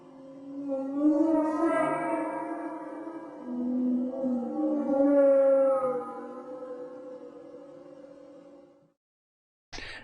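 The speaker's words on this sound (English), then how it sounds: "Waterphone is a unique, handcrafted, water-filled musical instrument, creates hauntingly ethereal sound effects, reminiscent of a humpback whale." An eerie, wavering metallic drone from a waterphone, a water-filled instrument, with bending, whale-like tones that swell and fade over several seconds, then stop abruptly.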